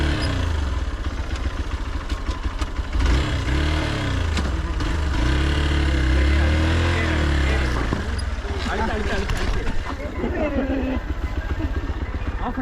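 A Hero XPulse motorcycle accelerates in first gear up a rough off-road hill trail. Its steady engine rumble runs throughout beneath loud, overlapping voices shouting nearby.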